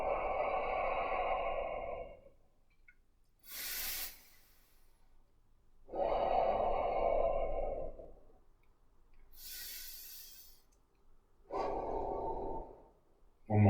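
Slow, deep breaths during qigong practice, with long audible exhales and inhales alternating in a steady, unhurried rhythm, close and fairly soft, with no talking over them.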